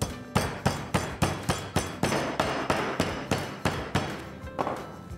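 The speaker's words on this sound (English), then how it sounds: "And now using a meat hammer, I'm going to flatten the chicken." A meat hammer pounds chicken flat under clean wrap, with about fifteen steady, evenly spaced thuds landing close and loud, one after another with no talking.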